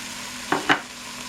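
Onions with green and red peppers fry in a pan, a steady sizzle broken by two quick stirring scrapes close by, with no talking.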